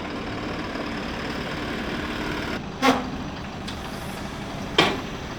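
A Farmlead FL 12 tractor with a Weichai diesel engine idles in a steady low rumble, broken by two short, sharp clanks or blips.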